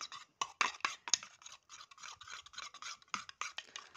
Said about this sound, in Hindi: अब मैं इसको अच्छी तरह से मिक्स करूंगी।